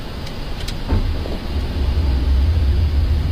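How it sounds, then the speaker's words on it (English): Emirates A380 landing gear lowers with a low mechanical rumble that builds into a steady heavy drone inside the cabin, loud and alone. "Landing gear down."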